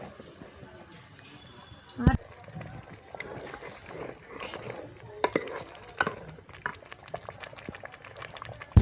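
Mutton curry bubbles and simmers in a pot on a wood-fired clay stove, a close busy boiling hiss broken by sharp utensil clatters, with voices talking nearby.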